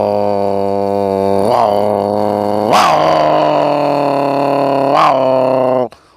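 A voice imitates two cats fighting with a long, sustained yowling snarl that rises and swells in a few surges before cutting off abruptly.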